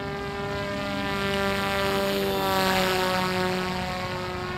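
A Ritewing Drak RC flying wing plane making a slow pass, its propeller drone holding steady and swelling slightly as it draws nearer, then easing off, with no talk.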